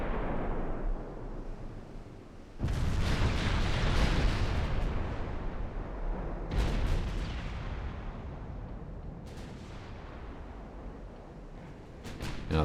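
Heavy naval guns firing armor-piercing shells in a video game, a series of loud booming salvos with rumbling tails, the strongest blasts near the start and middle and smaller reports later, no talk over them.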